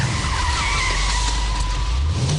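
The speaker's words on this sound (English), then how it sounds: "Then we just use the power to drive us through our slides and our donuts." A stunt car using a line locker slides and spins donuts, its tires squealing in one loud, continuous high screech over a heavy engine roar, close and sustained throughout.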